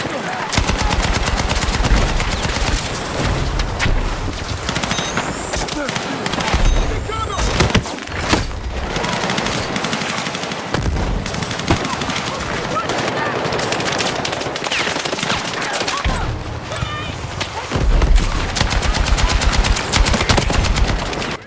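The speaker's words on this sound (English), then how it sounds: "Shotgun." Shotgun and automatic gunfire blast continuously through a video game firefight, loud and dense with heavy booms throughout, broken only by brief gaps.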